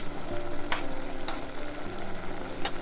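Ripe apples cooking in an iron skillet give a continuous soft sizzle and crackle, with a few sharper pops and clicks scattered through it and no voices.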